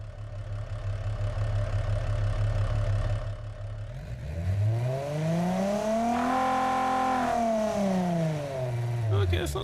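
Simulated V6 car engine in Automation, idling low before revving up in a smooth arc to a higher pitch and easing back down, loud and close with no talk.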